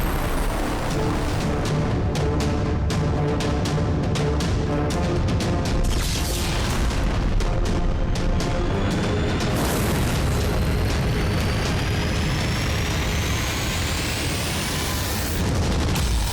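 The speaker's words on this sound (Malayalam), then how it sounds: "വെടിയാ, ചാരവെടി" Cartoon firecracker explosions in a kids' animated show: a rapid run of sharp bursts and booms that thins into a sustained rumbling roar with whistling, crackling debris sounds.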